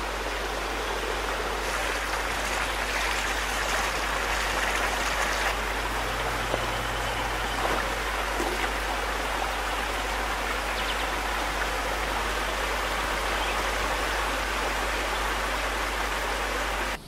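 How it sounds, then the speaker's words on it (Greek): A waterfall on Mount Athos spills over stones in a steady, dense rush that holds an even level for the whole stretch, close and continuous, with no voices. "Το τραγούδι του καταράκτη, η φθόγγη του νερού και της πέτρας"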